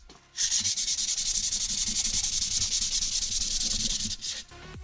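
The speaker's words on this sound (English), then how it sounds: "And then I'm just going to start sanding." Continuous hand sanding of an ATV or motorcycle exhaust with sandpaper, a loud, close hissing rasp of rapid rubbing strokes that stops abruptly near the end.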